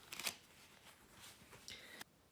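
A deck of playing cards riffle-shuffled on a table makes a quick fluttering burst of cards interleaving, followed by softer handling and a final squaring riffle, close and quiet.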